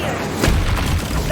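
Flipendo and Incendio spells cast in the Hogwarts Legacy video game, heard as a brief loud whooshing boom with a deep low rumble that rises and then fades. No voices are heard.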